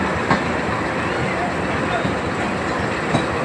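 A train rolls at Nawabshah railway station in Pakistan, a dense, loud, continuous rumble and rattle with faint clanks, with people talking under it.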